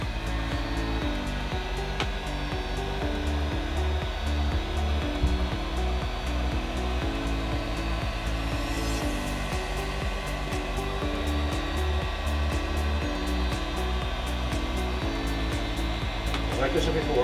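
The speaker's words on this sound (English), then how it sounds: "you've got to be careful with your heat gun" A heat gun blows hot air onto a sheet during a Veraform install on a cell tower model, a steady continuous whoosh holding at an even level throughout, close and loud, with faint background tones and no talk.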